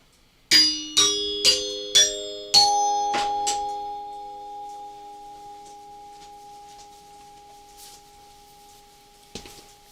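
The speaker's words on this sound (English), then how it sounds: "Let me see if you can hear me ring the bell here for you." A hand bell is rung five or six times in quick succession, each strike bright and metallic, then the last ring sustains and fades slowly into quiet, with a faint knock near the end.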